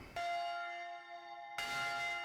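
A rope-pulled church tower bell rings out two clear strikes, each leaving a long, bright metallic hum that lingers between them, heard alone and fairly close.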